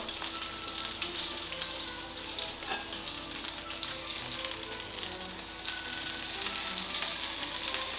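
A pork chop pan frying over low heat gives a steady, even sizzle with soft crackle, holding at a constant close level throughout with no talk.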